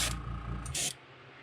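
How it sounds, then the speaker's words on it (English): Pearl white paint is sprayed at about 30 psi onto a crankbait fishing lure, giving two short, close hissing bursts followed by quiet. "Spraying it about 30 psi, 30-35 work."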